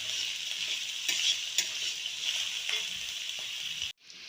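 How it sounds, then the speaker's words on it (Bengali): Chopped beans and capsicum sizzle steadily in a hot pan while being stirred, with scraping strokes over a continuous frying hiss that cuts off abruptly just before the end. "দিয়ে এই একসঙ্গে এই দুটোকে ভেজে নিলাম।"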